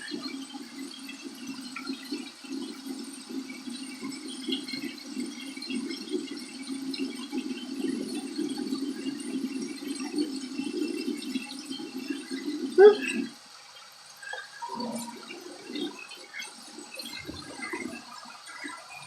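Warm tap water runs steadily from a faucet during a skincare facial routine, a continuous moderate rush that stops abruptly about two-thirds through, leaving faint room noise.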